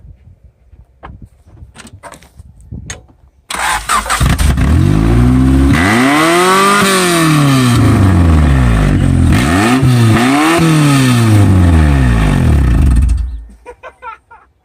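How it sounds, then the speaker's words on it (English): An old car engine that has not run in a long time, started with a jump box, roars to life and is revved hard in repeated rising and falling surges, very loud and close, then cuts off. "That's the best way to fire up a new engine that hasn't ran in who knows how long."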